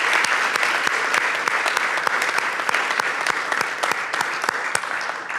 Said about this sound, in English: I think those two deserve a round of applause